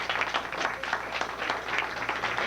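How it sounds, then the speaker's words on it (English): Applause from an audience, a dense, steady patter of many hands clapping at moderate distance and fairly low level. "Give him a round of applause one more time."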